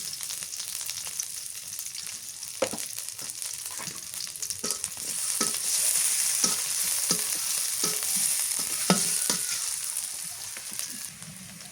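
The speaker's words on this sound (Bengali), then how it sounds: "মরিচ পেঁয়াজ ভাজা হয়ে গেছে" Onions and green chillies frying in a pan, a steady sizzle with intermittent scraping and stirring clicks, fairly close, no voices.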